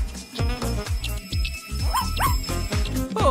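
Dog whimpering and yipping in a cartoon, a series of short high yips and whiny cries in quick succession, close and fairly loud.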